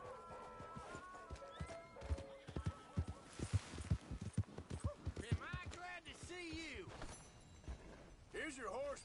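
Horse hooves clip-clopping in Red Dead Redemption 2, an uneven run of hoof strikes close by, with whinnies and voices talking over parts of it.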